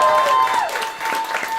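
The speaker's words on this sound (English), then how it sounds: "big round of applause, Mr. Rob Lloyd!" Applause from the audience at a live Red Dwarf stage show, a short burst of loud, dense clapping close up, with a held tone running underneath.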